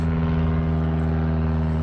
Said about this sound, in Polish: Samoloty co chwilę latają.